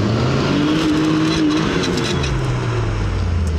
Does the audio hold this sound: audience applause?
no